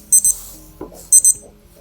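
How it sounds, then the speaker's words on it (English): Two short bursts of high electronic beeping from a Citizen ProMaster wristwatch alarm, each a rapid double chirp, separated by about a second of near silence with a faint click between. "this is how the alarm sounds like"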